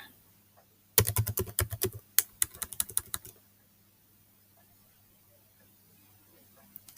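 Fast bursts of typing on a computer keyboard while entering action lines in screenwriting software, close and crisp, running for about two seconds, pausing briefly, then resuming before falling silent over a low steady hum.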